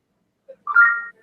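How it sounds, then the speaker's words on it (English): A phone ringtone chirps once, a brief faint blip followed by a short, bright melodic tone, alone in silence. "that's my phone"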